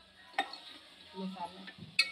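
Chicken masala is stirred in a pot, with sharp scrapes and clinks of a spoon against metal at the start and end and soft shuffling and sizzle between them; no talking.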